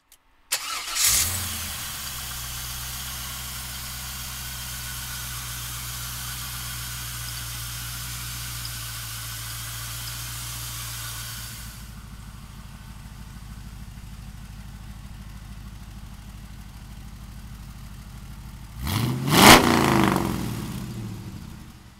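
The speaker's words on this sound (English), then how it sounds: "we'll fire this LS1 up for you right now" A 1933 Ford street rod's LS1 V8 engine cranks and fires, settles into a steady rumbling idle, then revs sharply once near the end before easing back down.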